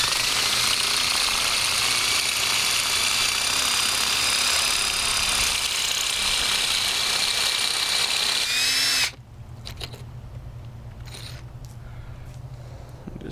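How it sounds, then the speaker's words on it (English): A loud, continuous power drill with a masonry bit grinds steadily for several seconds, then cuts off abruptly, leaving quieter background noise. "bump up to the next size drill."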